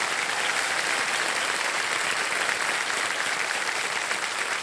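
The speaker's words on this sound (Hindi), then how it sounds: "तालियां बज जाए कृष्णा अभिषेक जी के लिए।" Studio audience on a quiz show applauds Krishna Abhishek, producing a thick, even roar of many clapping hands that holds steady at full strength throughout.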